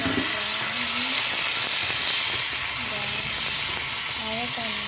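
Steady sizzling and hissing from a hot pan as plantain is stirred and stir-fried, a continuous bright crackle with faint tonal squeaks over it.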